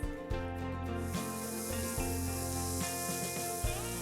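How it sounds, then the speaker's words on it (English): Chopped tomatoes land in a hot pan of masala khichdi with coriander leaves, setting off a loud, steady sizzle and hiss that runs the whole time, with a few sharper crackles and spits on top. "Next, I'm going to throw in my chopped tomatoes."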